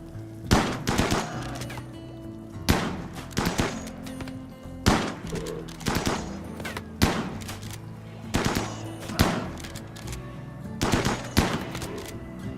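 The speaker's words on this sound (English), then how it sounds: "you can shoot that muffalo to death" Gunfire in the RimWorld video game as colonists shoot a muffalo, sharp repeated shots in short irregular bursts, steady and moderately loud over faint game background.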